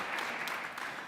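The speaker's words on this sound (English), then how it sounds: "give a round of applause and a cheer if you have attended these awards before" Audience in a room at the Pride of Newcastle Awards 2022 gives a short burst of applause and cheering, a brief dense clatter of clapping.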